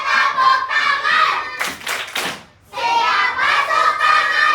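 Children at a Quran study group clapping along to a chant, a loud burst of rhythmic hand claps in the middle between stretches of sung voices, with a brief quiet dip after the clapping.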